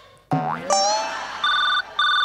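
A phone rings during a Marathi stage comedy sketch: a bright boing-like electronic sweep, then a repeating two-note ringtone beeping in loud, evenly spaced bursts with no talking over it.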